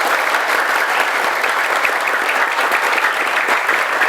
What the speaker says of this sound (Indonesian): Saya boleh minta tepuk tangannya dulu?